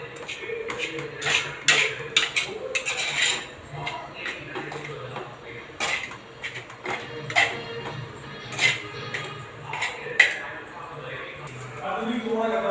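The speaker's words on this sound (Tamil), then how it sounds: "இப்போ நல்லா கிளறி விட்டுக்கலாம்." A spoon stirs crumbled idli upma in a pan, making close scraping and ticking clinks in irregular bursts while someone talks over the stirring.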